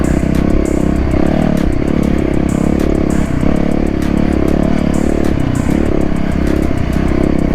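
Supermoto dirt bike ridden hard through a section of whoops, its loud, close engine droning steadily and surging up and down in pitch with each bump, rattling and clattering throughout.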